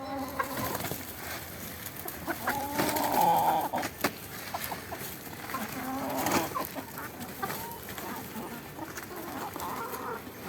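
Chickens cluck and squawk in a busy flock while being fed cauliflower leaves, with buzzing insects and scattered rustling throughout; steady, moderately close.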